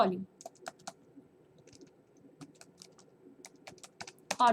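A search is typed on a computer keyboard, with scattered quick keystroke clicks in uneven bursts, close and fairly quiet against a still background.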